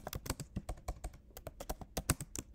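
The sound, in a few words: typing on a computer keyboard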